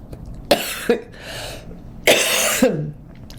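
Two bursts of harsh coughing, close and loud, each a short cluster of rough hacks separated by a brief pause.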